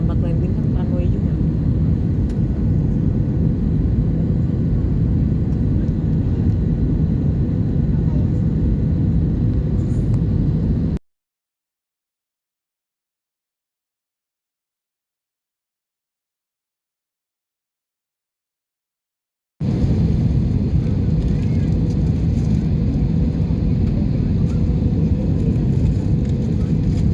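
Steady, loud droning rumble inside the cabin of a Batik Air airplane as it approaches landing, with a gap of total silence in the middle and people talking over the engine noise.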